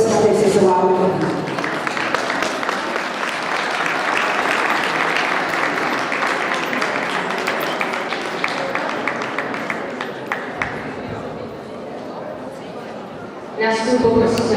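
An audience at an indoor dog show applauds for several seconds in a broad, steady wash of clapping that slowly thins out, with a voice speaking over the start and again as it ends.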